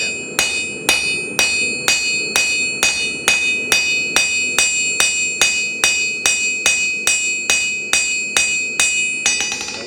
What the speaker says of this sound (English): Start doing half blows on and off the anvil.